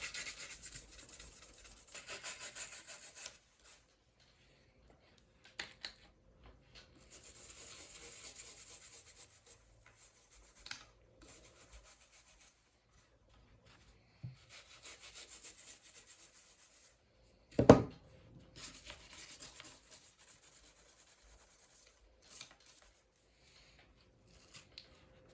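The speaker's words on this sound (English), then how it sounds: "I'll even scrape the outside." A Ruger S-9 pistol being scraped during cleaning: close, raspy scraping strokes in bursts separated by silences, with one sharper knock partway through.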